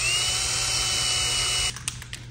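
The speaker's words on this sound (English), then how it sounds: "drill and tap the knuckle for a 1/4-20 bolt and a little P-clamp" A power drill boring into a steering knuckle to tap it for a 1/4-20 bolt during a hub conversion install, a steady high-pitched whine close by that stops abruptly, followed by a few light clicks.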